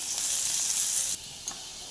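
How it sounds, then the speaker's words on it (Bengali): Onion frying in hot oil with bay leaves, a bright, close hiss that drops abruptly to a quieter sizzle, with a brief spatter near the end. "এবার আমি পেঁয়াজটা দিয়ে দেবো।"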